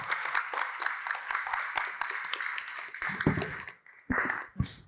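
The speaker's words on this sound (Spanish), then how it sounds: "un aplauso para nuestros grandes invitados" Audience applause for guests at an academia–industry education event, a dense patter of many hands clapping steadily for several seconds before thinning into a few scattered claps.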